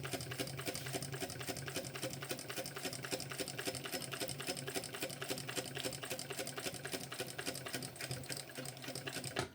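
A sewing machine runs steadily, top stitching fabric on a Park Mini backpack, its needle chattering in a fast, even rhythm at close range for the whole stretch with no voices.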